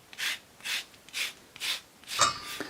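A microplane grater zests an untreated orange in five even, rhythmic rasping strokes, close and clear, followed by a slightly rougher final scrape.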